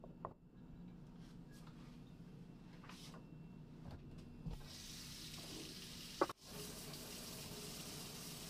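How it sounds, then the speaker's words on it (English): Running tap water steadily splashes as a mini whisk and small pot are rinsed in a kitchen sink, with a few clinks and knocks over the constant flow. "Give a quick clean up to this mini whisk and small pot"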